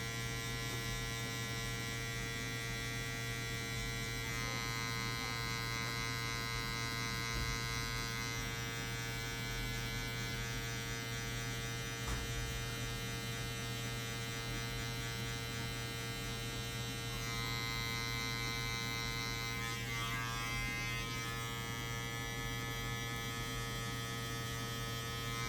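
Electric hair clippers fitted with a one guard buzz steadily and close up while fading a mid taper haircut, a constant motor drone with slight changes as the blade moves through hair.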